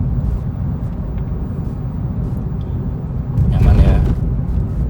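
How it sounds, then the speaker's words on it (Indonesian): Cabin of a 2018 third-generation Honda Jazz on the move, with a constant low road and engine rumble that swells briefly near the end, as if from a passing vehicle or road surface change. "ini dia rasanya mengemudi Honda Jazz tahun 2018 atau Jazz generasi ketiga."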